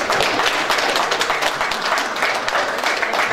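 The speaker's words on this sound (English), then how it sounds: "One person clapped, the rest of y'all was scared as shit to clap." Hand clapping from an audience at a lecture in Rotterdam: a dense, steady patter of claps fills the whole stretch at moderate loudness, with no voices over it.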